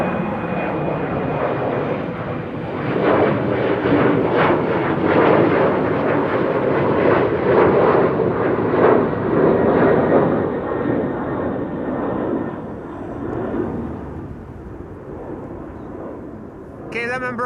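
A KLM Embraer 190 jet in SkyTeam livery departs Amsterdam Schiphol Airport, its engines building into a broad rumbling roar that peaks and then slowly fades as it climbs away, with a commentator talking over it.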